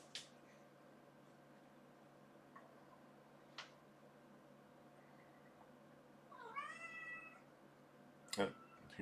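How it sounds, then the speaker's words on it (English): A house cat meows faintly in the background, a short rising call late in the clip over a low steady hum, with a few soft ticks and clicks scattered around it and no talking. "Hear my cat in the background."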